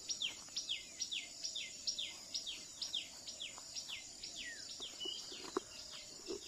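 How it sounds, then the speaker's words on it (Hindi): A tailorbird calls in quick, repeated high chirps by a river with lotus plants, a steady run of sharp notes over faint insect-like background hiss. "पक्षियों की आवाज़ देखिए, टेलर बर्ड की आवाज़ है।"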